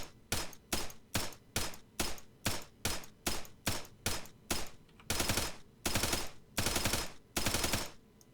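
Thompson submachine gun in ARMA 3 fired at night, about a dozen evenly spaced single shots followed by four longer automatic bursts, loud and close.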